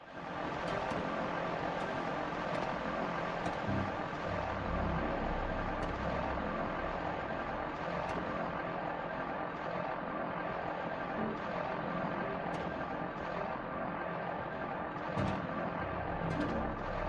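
Steady engine drone of an aircraft in flight in the video game The Legend of Zelda: Tears of the Kingdom, a continuous loud rumble with faint clicks on top, holding at the same level throughout.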